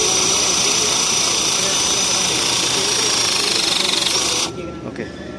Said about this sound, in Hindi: इसकी मदद से हम वायर को पंच करेंगे।